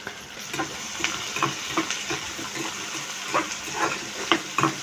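Sprigs of curry leaves crackle in hot oil for upma, with spitting sizzle and repeated sharp stirring taps against the pan at an uneven rhythm, close and fairly loud.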